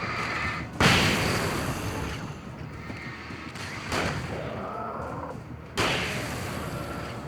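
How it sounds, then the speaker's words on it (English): A flashbang goes off in the video game Alan Wake: three sharp bursts roughly two seconds apart, each a loud broadband bang that fades over a muddy, rumbling game backdrop. "Flashbang going out!"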